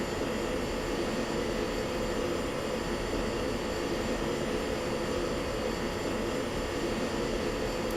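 An F-16 jet engine revs during an EPU test in a flight simulator game, producing a continuous loud broadband roar that holds steady and level throughout.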